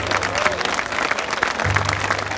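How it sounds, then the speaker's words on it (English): Applause from an audience at an Indian Market clothing contest for men's fashion and regalia, a steady, fairly loud wash of clapping with crowd murmur and faint low hum underneath. "Give him a round of applause."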